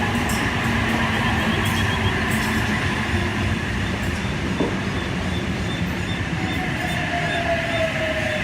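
A passenger train, H28 leading, rumbles steadily past at close range near Koolewong, a continuous loud roar of wheels on rails with a faint high squeal rising near the end.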